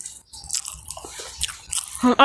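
Crab stick dumpling snack chewed close up, with wet squishy bites and crunchy chews in irregular bursts, ending in a louder mouthful.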